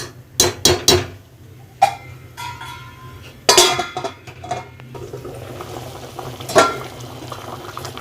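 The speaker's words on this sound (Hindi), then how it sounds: "देखिए ग्रेवी में उबाल आ गया।" Butter chicken gravy with fried chicken boiling in a covered pan over a high flame: bubbling pops and splutters in irregular bursts, with occasional lid or pan clinks, close up and without talk.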